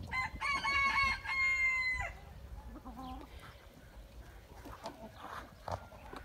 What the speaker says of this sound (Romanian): mă bucur pentru acești pui de curcă